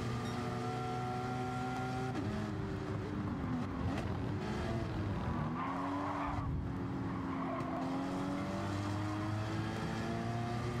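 Race cars roar through a Gran Turismo 7 race at St. Croix, engines droning steadily with shifting pitch as the pack jostles, joined by brief tire squeal and skidding, loud and continuous with no talk.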